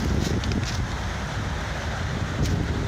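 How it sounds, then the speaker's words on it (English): Rough ocean surf churning against a jetty on a morning shoreline, a steady broadband roar with heavy wind buffeting the microphone and a few brief gusty swells, no voices. "water's all riled up this morning"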